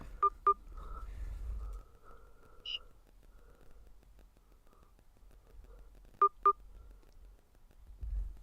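Telephone dialing tones on a phone line come as two quick pairs of short beeps, one pair near the start and another near the end, over a low hum and faint murmuring.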